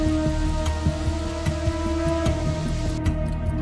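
Heavy monsoon rain falls in the mountains of Bhatwari, Uttarkashi, Uttarakhand, a steady dense patter with a constant low hum beneath and occasional louder drops.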